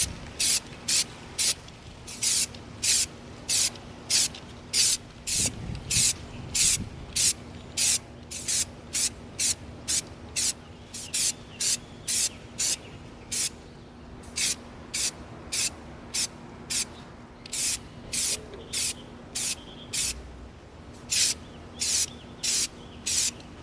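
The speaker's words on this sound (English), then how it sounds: "We're at the spray stand. We're going to hit the barrel of our dart gun with our matte white." Short rhythmic bursts of spray paint hiss from an aerosol can coating the barrel of an EVA foam dart gun in matte white at a spray stand, dozens of quick evenly spaced blasts, close and fairly loud, with a brief low thump midway.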